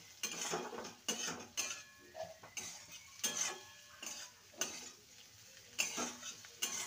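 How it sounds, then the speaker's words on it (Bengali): Potatoes being sautéed with spices in a pan for a bitter gourd dish give repeated scraping and clinking strokes of a spatula against metal over a soft sizzle, close and rhythmic, with no voices. "এবার ভালো করে মশলার সাথে আলুটাকে কষিয়ে নেব।"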